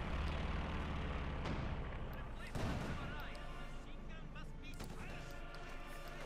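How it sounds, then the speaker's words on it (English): Company of Heroes 2 battle as a Luftwaffe strafing run hits a Soviet machine gun position, dense rolling gunfire and blasts layered over constant battle din, with a commentator talking throughout. "Quick strafe here in support of the Feldherrnhalle from the Luftwaffe."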